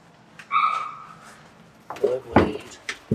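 A small dog gives a few short, high-pitched yips and barks nearby, with brief pauses between them.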